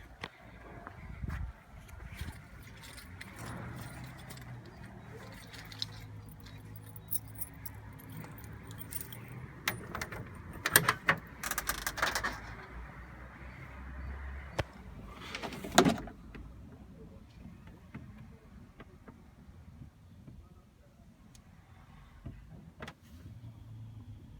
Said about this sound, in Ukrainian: відкриєш багажник.